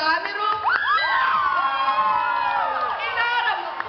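An audience bursts into cheering for a professor, with shrill whoops and excited shouts rising and sliding over one another, loud and close throughout.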